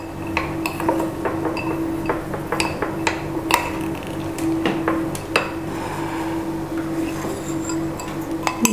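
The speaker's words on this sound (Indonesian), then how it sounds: "Aduk terus sampai dia leleh dan menyatu dengan baik." Metal spoon scraping and clinking steadily around a bowl of melting chocolate over a barely simmering water bath, close and continuous, with a low steady hum beneath.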